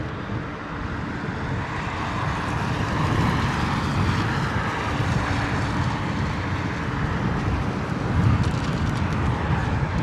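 An Air Canada airliner in icy blue livery lands at London Heathrow in wet, windy weather, its engines making a steady, loud roar mixed with wind rumble that swells slightly near the end.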